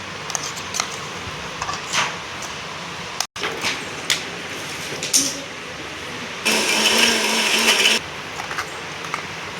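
A mixer grinder whirs through a coarse fenugreek leaf chutney in one loud burst of about a second and a half, between scattered knocks and handling noises.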